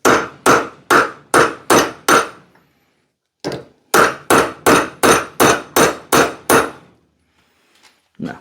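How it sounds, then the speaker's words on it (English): A hammer strikes an axe head to drive out the old handle of a Connecticut pattern axe, in two runs of about six and eight loud, evenly spaced blows separated by a short pause. "Bigger hammer."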